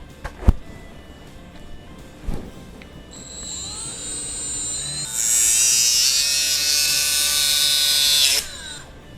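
A small angle grinder cutting down a grinding wheel: brief clunks, then a high whining motor that rises and bears down into a loud, bright, sustained screech for several seconds before stopping abruptly.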